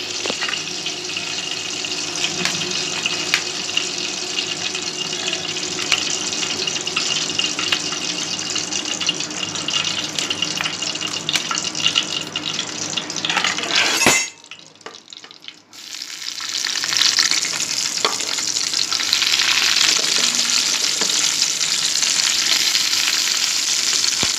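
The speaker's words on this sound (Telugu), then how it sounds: "సో ఆయిల్ పోస్తున్నాం అండ్ ఇప్పుడు వెజ్జీస్ అన్నీ దాంట్లో వేద్దాం" Vegetables hit hot oil in a pan for veg soft noodles, producing a loud, bright continuous sizzle that cuts briefly to near quiet midway, then resumes sizzling strongly, with no talk.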